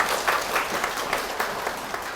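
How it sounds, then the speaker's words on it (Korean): Audience applause at a tourist-interpreter interview lecture, a steady wash of clapping from a seated crowd, moderately loud and continuous for a couple of seconds with no voices over it. "큰 박수 부탁드립니다."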